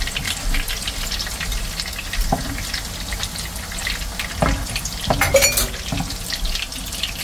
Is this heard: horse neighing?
no